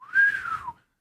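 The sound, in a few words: voice imitating a wolf whistle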